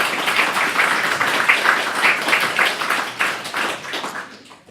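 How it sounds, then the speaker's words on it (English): Applause from the audience at a Code4GoodNI talk on object detection with satellite images: dense, loud clapping from a roomful of people, holding steady for several seconds before tapering off at the end. "if you think I did a good job, you can clap now"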